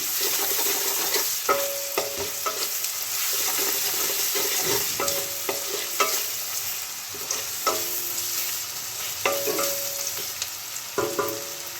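Onions sizzle steadily in a pan while a utensil stirs and clinks against the metal several times in an uneven rhythm.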